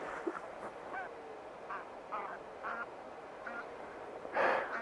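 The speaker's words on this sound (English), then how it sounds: "I'm standing up here with the geese, as you can maybe hear them, just flying by." Geese honking as they fly past outdoors at sunrise, a handful of distant calls in loose sequence that swell into a louder burst near the end, with no talking.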